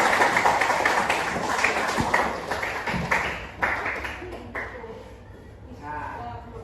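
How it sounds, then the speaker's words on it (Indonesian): A classroom of pupils claps for a classmate, with a burst of scattered, uneven hand claps that thins and trails off toward the end, mixed with some voices. "Beri tepuk tangan."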